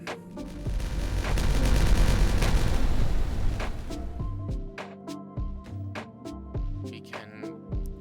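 Dynamite detonation in the city-building video game Timberborn: a heavy, rumbling blast that swells and roars for a few seconds, then breaks into scattered debris thuds and clatters over game music tones.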